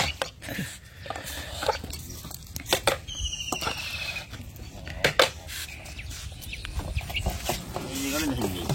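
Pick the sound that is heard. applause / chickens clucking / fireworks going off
chickens clucking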